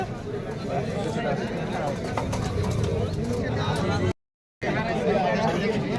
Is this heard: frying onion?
no